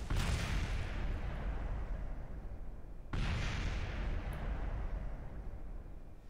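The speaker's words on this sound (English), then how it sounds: "And there comes the gunfire" Two long, heavy bursts of A-10 jet cannon fire in Kerbal Space Program's BD Armory mod, each a dense rumbling roar that tails off slowly, the second starting about three seconds after the first.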